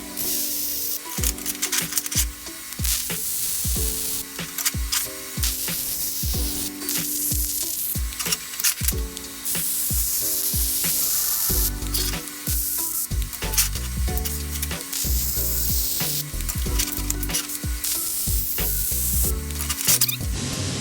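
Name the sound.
welding plug welds on a dual caliper bracket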